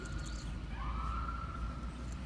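An emergency vehicle siren, a police car or ambulance, wails faintly in the distance, its tone gliding upward over a steady low rumble, with no talking.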